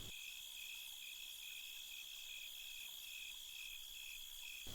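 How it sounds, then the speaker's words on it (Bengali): Crickets chirp at night in a steady, shrill, pulsing trill that runs unbroken throughout, moderately quiet, with no voices. "ঝিঝি পোকাদের ডাক"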